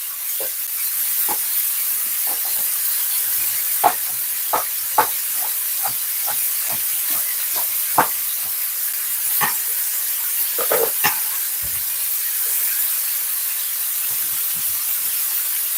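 Onion and spring onion sizzle steadily in a hot pan, a loud continuous hiss broken by frequent sharp pops and spits close by.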